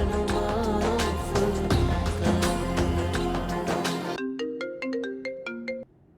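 A phone ringtone for a repeated incoming call plays as a bright, melodic electronic tune. It starts partway through the clip after loud music, runs alone, and cuts off near the end.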